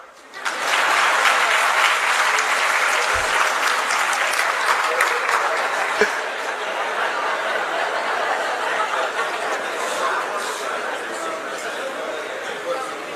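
An audience at a state-level teachers' workshop bursts into sustained applause, loud and dense, with some chuckling and chatter mixed in as it slowly eases.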